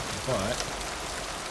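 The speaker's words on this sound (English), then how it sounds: "they start us in the rain" Steady rain in Mass Effect 2, an even hiss that continues throughout under a brief spoken word.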